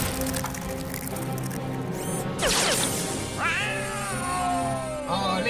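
Robot cats in an animated cartoon let out a series of warbling, rising and falling electronic meows over a busy musical background, with a squishy crash partway through.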